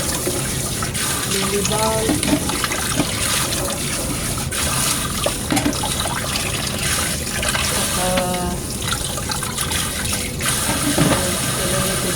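Running tap water splashing over lily bulbs and roots being rinsed in a sink, a steady broadband wash that carries on throughout with small clatters of handling, while a person talks over it.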